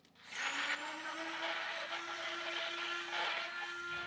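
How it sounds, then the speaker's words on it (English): An immersion blender whirs steadily through raw egg whites, a close, continuous motor drone with a bright edge that holds at a constant pitch for several seconds after a quick start, with no talking over it. "I am going to grab my immersion blender and just give this a quick blend so it's completely liquidy."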